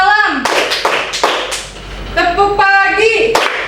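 Schoolchildren in a classroom religious lesson clap their hands in a call-and-response rhythm game, sharp clustered claps in short patterns, close and loud, alternating with voices calling out cues.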